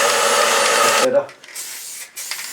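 A heated aerosol paint can sprays in a garage during a liquid-wrap job on a Triumph Tiger, a loud steady hiss for about a second before cutting out, followed by short quieter bursts.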